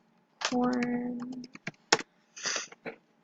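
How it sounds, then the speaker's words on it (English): Typing on a computer keyboard while making a Roblox Bloxburg decal: short, close key clicks in a few quick bursts, mixed with a person talking. "So just type in anything. I'm gonna type in unicorn."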